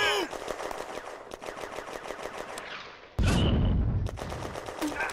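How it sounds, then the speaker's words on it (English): Lieutenant Renaudin's R-35 tank opens up with its machine gun on German infantry in a May 1940 war game: rapid, loud bursts of fire that rattle continuously, with a heavier blast midway and a brief voice at the start. "Lieutenant Renaudin's R-35 opens fire on the German infantry."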